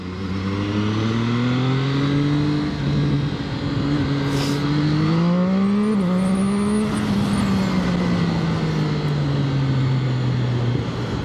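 A Zxmoto 820RR motorcycle engine revs up hard and loud and holds high, its pitch climbing steadily then easing down after a brief shift, under continuous wind roar with no talk.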